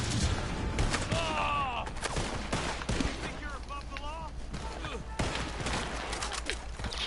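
Video game gunfire in a shooter, with repeated close shots and short automatic bursts cracking over a busy mix of game effects and chirping sounds, with some speech mixed in.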